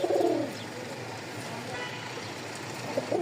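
Pigeons, including a black pair and a pure white pair, give soft cooing calls at the start and end, faint and close over a quiet background hum.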